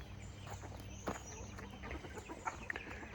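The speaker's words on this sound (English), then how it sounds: "Rooster row, that's a laughing chicken." Faint clucking from chickens somewhere in a busy coop, with scattered soft calls over a constant background hum.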